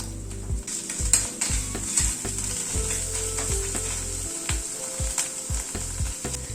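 Spice paste fries and is stirred in a pan, with a constant bright sizzle under repeated low thumping scrapes of the spoon roughly every half second, close by and with no voices.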